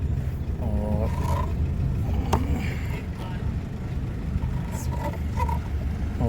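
An old Maruti Gypsy engine running at a raised idle, a steady low rumble throughout with someone speaking over it.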